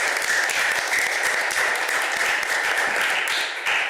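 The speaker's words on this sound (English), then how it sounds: "I'm going to give you a round of applause because it's a big deal" Sustained audience applause fills a council meeting chamber, steady dense clapping throughout with no talk over it.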